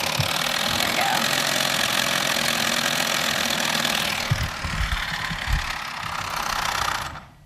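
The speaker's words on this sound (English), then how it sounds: "So this is our steam engine" A small steam engine running on water and chemical fuel pellets and driving a generator chugs steadily with a broad, continuous hiss, and a few low knocks come in toward the end before it fades.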